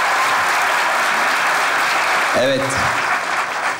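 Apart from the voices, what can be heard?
audience applause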